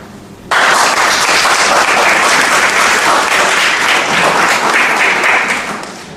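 Loud, dense applause from an audience that bursts in abruptly after a quiet moment, holds steady for several seconds, then begins to taper off near the end.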